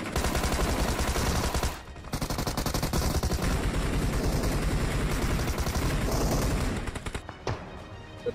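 Sustained, dense rapid gunfire from many weapons in a first-person shooter video game, loud and continuous with one brief pause before resuming.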